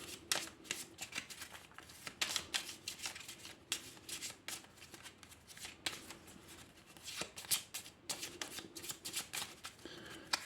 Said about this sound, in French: Ensuite, on va tout remélanger.